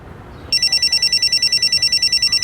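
A telephone rings with rapid, evenly pulsed electronic trills that start abruptly after a short quiet moment and continue loud and steady, with no voices.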